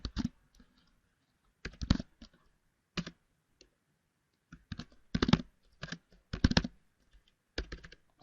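Keystrokes on a small computer keyboard, close and clear, coming in irregular clusters of quick clicks separated by short pauses.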